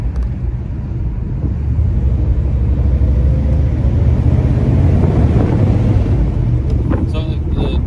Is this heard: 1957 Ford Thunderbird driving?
yes